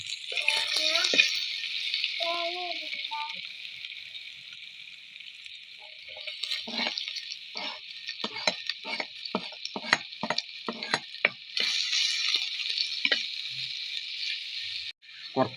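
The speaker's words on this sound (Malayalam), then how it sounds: "അപ്പോൾ നമ്മുടെ ഉള്ളിയെല്ലാം വാടി വന്നിട്ടുണ്ട്" Small and large onions fry in a pan with a soft, steady hiss, broken by a run of sharp scraping and clacking stirs; a voice speaks briefly early on.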